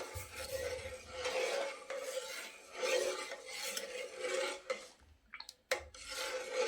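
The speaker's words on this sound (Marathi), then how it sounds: "हे असंच ढवळत राहायचं" A spoon stirs thickening milk in a pan for rasmalai, making rhythmic rasping and scraping strokes against the metal, close and moderately quiet, with brief clinks near the end.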